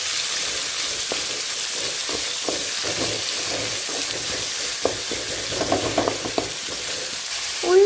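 Chopped onion and green chili frying in hot oil with curry leaves: a steady broadband sizzle throughout, with scattered scraping and stirring clicks, and a louder clatter near the end, no voices.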